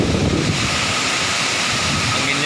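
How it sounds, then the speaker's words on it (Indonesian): Strong wind blowing near a waterfall on a scenic coast, a loud, steady rushing roar with gusty buffeting against the microphone, no pauses across the short stretch. "anginnya juga kencang"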